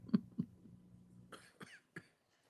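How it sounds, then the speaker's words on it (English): A person coughing somewhere in a courtroom gallery: two quick, fairly faint coughs in succession followed by a few softer throat sounds, heard from a distance in an otherwise quiet room. "Who is that coughing?"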